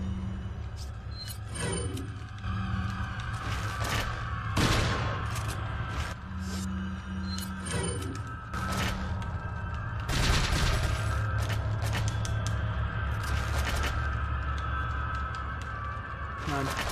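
Gunfire in the video game Resident Evil 4 during a village boss fight: repeated sharp, loud shots at irregular intervals over droning game music and effects, with a person talking now and then.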